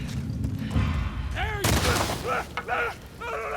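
Incendiary gunfire in The Last of Us Part II, a few loud close shots and bursts mixed with booms and cries, with a person's voice speaking at moments between them.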